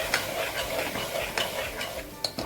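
Spoon stirring coriander and turmeric into a pot of green tuvar and muthiya curry, with soft scraping strokes and a faint sizzle, close and steady, ending in a couple of sharper clinks.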